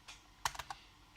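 A few quick key presses on the keyboard of a Gigatron TTL computer, close and crisp, four clicks bunched within about half a second.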